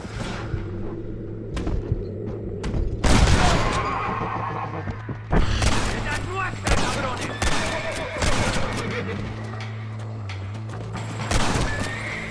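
In the Red Dead Redemption video game, a horse whinnies loudly and close by while hooves clop, with rapid bursts of gunfire and a low rumble mixed in through a busy, dense stretch of action.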